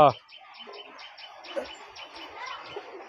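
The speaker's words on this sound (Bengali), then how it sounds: "এবার এসে প্রথমবার পায়রা ওড়াচ্ছে" Racing pigeons chirp and coo in short, quiet bursts at a pigeon race, with a sharp louder call at the very start and faint clicks and rustling after.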